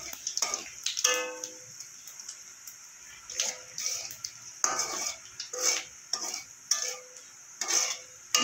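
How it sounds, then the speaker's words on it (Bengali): Cumin, a bay leaf, whole garam masala and mace fry in hot oil while a spoon stirs and scrapes the pan in short repeated bursts over a faint background sizzle. "দিয়ে ফোড়নটা একটু কিছুক্ষণ ভাজা ভাজা করে নেব।"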